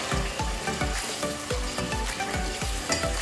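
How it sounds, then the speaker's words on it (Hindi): Ginger garlic paste frying in a pot for nihari, a loud continuous sizzle with rhythmic scraping strokes of a spoon repeating about every half second. "अब मैं इसमें अदरक लहसुन ऐड कर दूँगी और बहुत अच्छे से मैंने इसकी भुनाई कर ली है।"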